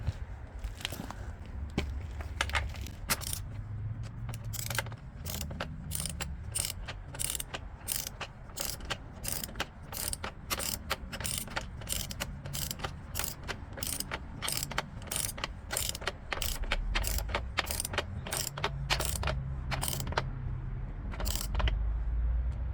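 Torque wrench being ratcheted to tighten a rear wheel bolt on a 2022 GSA 850 motorcycle during a tire change: a long run of rapid, sharp clicking, close and steady, over low background rumble.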